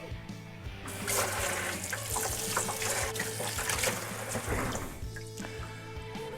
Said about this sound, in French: On va rincer ça.